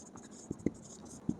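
Pen writing on paper while working a Class 10 maths problem: a few short scratchy strokes and taps at close range, under faint background noise.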